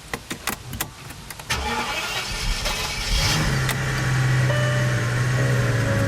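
A 21-year-old car is started up: a few clicks and clunks come first, then the starter cranks and the engine catches, settling into a loud, close, steady idle.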